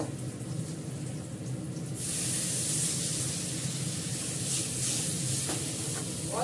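A little water hits a hot frying pan of fried potatoes, bursting into a loud steady hiss of steam that holds close and even for several seconds.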